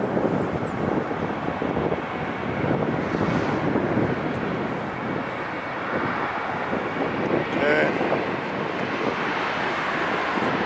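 An airliner lands at LAX with a loud, continuous jet roar blended with gusty wind buffeting the microphone, holding steady throughout.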